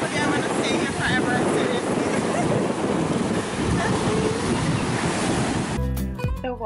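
Surf washes and crashes continuously on the shore, with wind rushing across the microphone, ending abruptly in a short burst of different sound.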